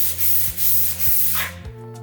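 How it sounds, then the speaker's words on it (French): Rhythmic back-and-forth rubbing strokes along the grain of a wooden bedside table to strip excess wax and scuff the surface, four loud close strokes with no talking. "on va frotter le meuble dans le sens du veinage pour enlever tous les excédents de cire et vraiment gratter le support"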